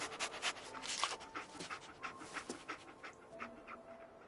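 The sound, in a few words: Dogmeat the dog panting in video game Fallout 4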